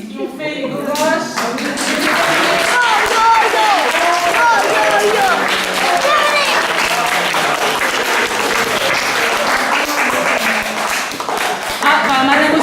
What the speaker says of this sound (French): Plein d'applaudissements pour mesdames